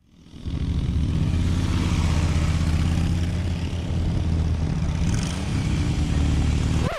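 A motorcycle engine idling and pulling at low revs through a slow U-turn in a parking area, a steady close throbbing drone that holds for several seconds before a brief shift at the end, with no voices.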